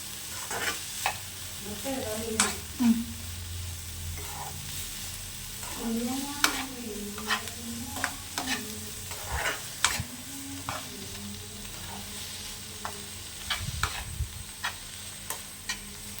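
Fried rice with vegetables is stirred in a hot pan: a soft, constant sizzle is broken by repeated sharp spatula taps and scrapes at an uneven rhythm, with faint, low background voices.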